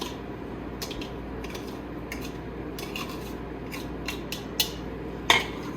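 Canned tuna pieces broken up in a bowl with a utensil, giving soft scraping and mashing under quiet background hiss, with scattered light clinks against the bowl and a sharper tap near the end.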